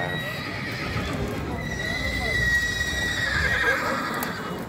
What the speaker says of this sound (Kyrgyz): Мына эркек тай.